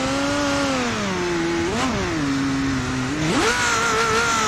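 A game car's engine revs loud and close, holding a steady drone and then dipping before climbing sharply twice as it accelerates toward a swaying bridge, with no voices over it.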